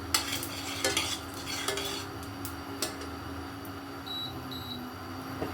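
Black cumin seeds sizzling in hot oil in a home kitchen, with a soft steady frying hiss and several sharp scraping knocks of a spoon stirring against the pan, plus a few faint beeps in the background.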